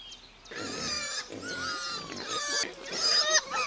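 A wild sow grunts and squeals in a rapid, harsh series, loud and close at a wild pigs' feeding place, with no talking.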